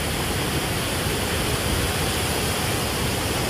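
Ocean waves break on Holtekamp beach in Jayapura as a steady, dense wash of surf noise with no distinct individual crashes and no voices.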